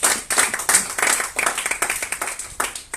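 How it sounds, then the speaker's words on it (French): Audience clapping at a business talk in French, steady dense applause filling the room for a few seconds. "donc vous pouvez déjà applaudir pour vous-même."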